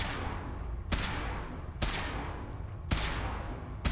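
Gunfire in Fallout 4 booms out three times, each sharp report spaced about a second apart over a steady low background rumble.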